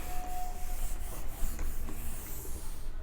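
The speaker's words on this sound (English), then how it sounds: "I'll rub this part so that I can do further calculation" Chalk writing being rubbed off a classroom blackboard with a duster, a steady close scrubbing swish lasting a few seconds without any speech.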